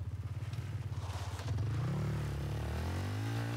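A motorcycle engine in a video game putters with a rapid pulsing idle, then revs up into a rising, sustained drone, loud and close, with no talk over it.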